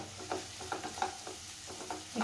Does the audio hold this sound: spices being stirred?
yes